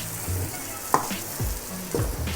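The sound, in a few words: meat frying with garlic and onions in a pan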